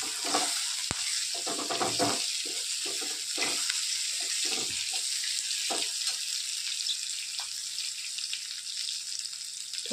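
Green chillies hit a hot pan with asafoetida and a little coriander, giving a continuous close crackling sizzle with scraping stirs throughout and no speech.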